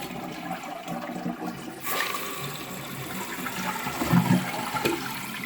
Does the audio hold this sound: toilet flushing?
yes